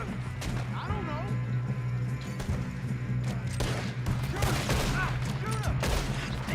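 Gunfire in Red Dead Redemption 2 during a shootout, several sharp shots and bursts over a steady low hum, with a voice calling out between them.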